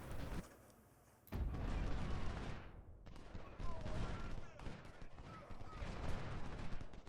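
Volleys of musket and cannon fire in the video game Ultimate General: Civil War at the Saunders Farm battle, a dense crackling barrage with sharp bursts after a brief quiet gap, a voice talking over it.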